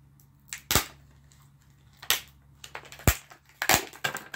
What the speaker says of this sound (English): These are always a pain in the backside to unwrap in the beginning.